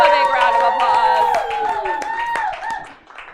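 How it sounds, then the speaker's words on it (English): An audience bursts into applause with some cheering, dense clapping from a crowd at a live comedy show that stays full, then fades slightly at the end. "Give them a big round of applause."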